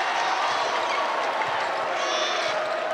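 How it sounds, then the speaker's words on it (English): Crowd at a Calvin vs. Hope men's college basketball rivalry game cheering and applauding, a dense, loud, continuous roar of clapping and voices filling the gym without a break. "And listen to this crowd."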